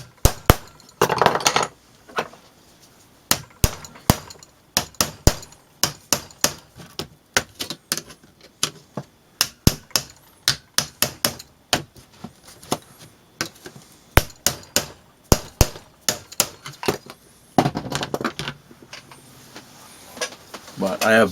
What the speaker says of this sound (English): I'll try not to talk when I'm hammering.